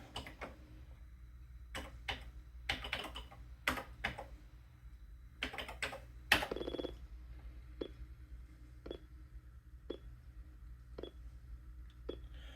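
Atari 8-bit program code is typed on a computer keyboard in short bursts of crisp clicks, then single spaced keystrokes, over a low electrical hum.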